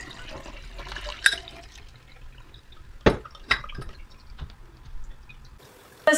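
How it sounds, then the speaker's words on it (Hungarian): Homemade water kefir is strained in a kitchen, giving soft trickles and drips of liquid with a few sharp clinks and splashes in an otherwise quiet room. "szóval itt átszűrjük az egészet"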